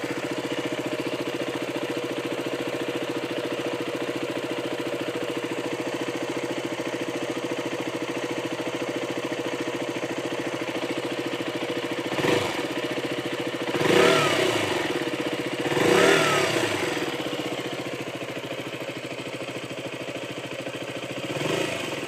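A 2013 KTM 125 Duke motorcycle engine runs at a steady, close idle in neutral, with a few short throttle blips rising briefly above the even hum toward the end.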